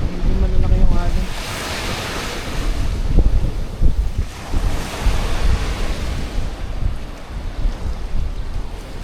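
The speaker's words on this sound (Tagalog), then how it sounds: "Saka may alon talaga, hindi malalaki yung alon." Waves wash and slap against a small boat on choppy water, buffeted by strong wind across the microphone, with a voice talking now and then.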